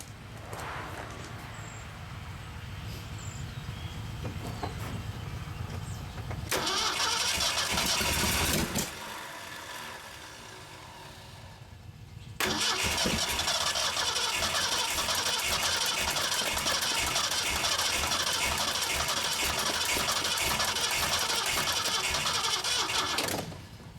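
A 1974 Mercury Comet GT engine tries a cold start after 14 years of sitting, cranking at first, then roaring to life and running loud and steady close by.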